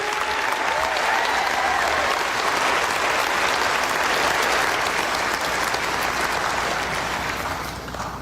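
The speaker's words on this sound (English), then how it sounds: "Give yourself a round of applause." Dense, sustained applause from a large graduation audience at West's commencement fills the space steadily, a thick wash of clapping that eases slightly in the last second.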